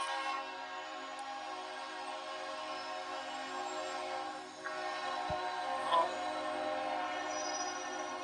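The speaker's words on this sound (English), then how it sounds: "the train goes wheeling by loud and loud" A train passes close by with a loud, sustained droning rumble carrying a steady tonal, horn-like edge. The sound holds nearly constant throughout, dipping briefly before swelling again.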